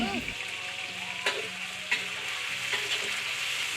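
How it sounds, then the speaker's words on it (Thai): Hot oil sizzles and spatters steadily in a pan while green curry cooks, a loud continuous frying hiss with a few sharp pops and crackles and a brief voice at the very start. "เป็นคนทำกับข้าวเป็นแต่กลัวน้ำมันกระเด็น"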